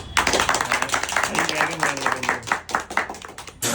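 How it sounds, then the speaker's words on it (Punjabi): A group of people clap their hands together in a steady, close burst of applause, with voices mixed in underneath, ending with a brief pause and a final flurry. "ਤਾਲੀਆਂ ਮਾਰ ਦੋ"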